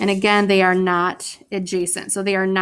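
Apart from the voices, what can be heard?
None of the usual background noises is heard.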